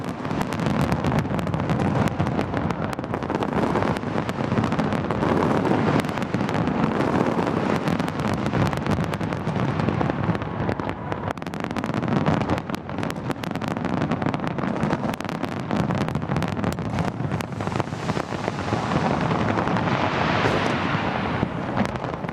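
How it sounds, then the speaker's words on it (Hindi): New Year fireworks over Sydney, Australia, as a loud, continuous roar of dense bursts, booms and crackle that stays packed and unbroken for over twenty seconds. "ऑस्ट्रेलिया के सिडनी में भी जबरदस्त आतिशबाजी की गई, आप भी देखिए"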